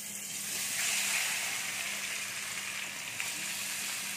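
Potatoes and pointed gourd fry in mustard oil in a wok, giving a steady close broadband sizzle that holds through the clip with no talking.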